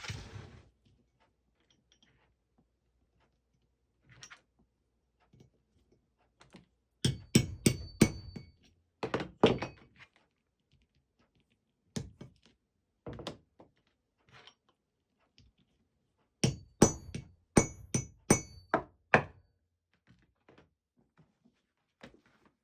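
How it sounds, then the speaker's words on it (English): Copper rivets being set on a leather bag, heard as two tight bursts of sharp metallic hammer taps, each a rapid run of five or six blows, with a few scattered single knocks and quiet gaps between them. "Put a rivet in the other side."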